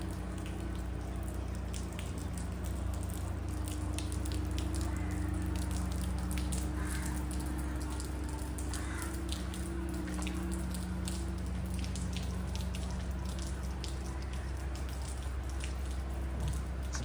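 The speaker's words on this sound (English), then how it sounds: "Just a bit of rain. Well, it's rainy season." Light rainy-season rain falls around Phuket's Boat Lagoon and Royal Phuket Marina as a steady patter of drops and drips on surfaces, continuous over a low outdoor hum, with no talking.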